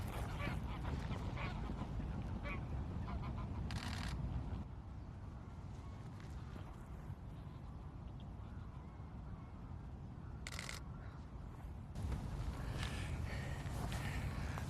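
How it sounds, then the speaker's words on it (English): Geese honk while flying over a marsh, repeated calls rising from a steady outdoor background with faint talk mixed in. "Didn't come quite close enough, but I got oh, geese."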